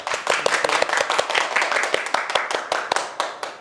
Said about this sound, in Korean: 이호 대표님을 큰 박수로 모시도록 하겠습니다.